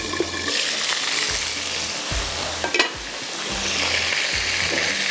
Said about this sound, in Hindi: इसका मतलब है कि चिकन जो है फ्राई हो रहा है